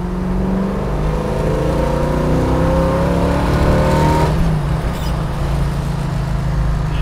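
A Z28 Camaro engine accelerates hard, its loud, close roar climbing steadily in pitch for several seconds before it cuts off and settles into a rougher rumble.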